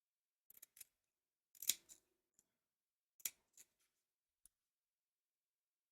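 Scissors snip excess embroidery stabilizer from around a teddy appliqué, a series of short, close, crisp cuts spaced irregularly with quiet pauses between them.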